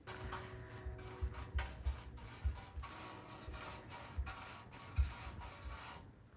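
A brush laying thick base coat paint onto a thrifted home decor piece, making a close, rhythmic scratchy rubbing with repeated strokes, no talking.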